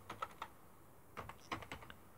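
Computer keyboard keys tapped while writing ggplot2 code in R, two short bursts of clicks separated by a pause, close and fairly quiet with no talking.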